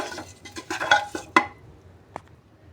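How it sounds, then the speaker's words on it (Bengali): Close, repeated scraping and knocking as food is worked around a bowl with a wooden utensil, in a run of quick strokes, then a few sparse taps. "এখন আর হাতে মেখে দিলাম না এই কাঠিটা দিয়েই মেখে নিলাম"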